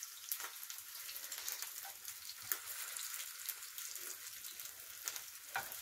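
Kofta frying in a pan of hot oil as the pieces are turned: a steady, dense sizzle with crackling spits throughout, with no talking.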